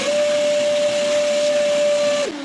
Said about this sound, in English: These require a vacuum.